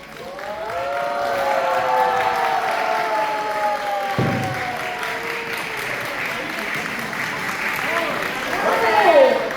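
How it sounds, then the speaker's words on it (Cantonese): Audience applause fills the space after a Chinese martial arts troupe finishes its final pose, steady broadband clapping with some crowd noise, swelling slightly toward the end while faint voices murmur underneath. "掌聲"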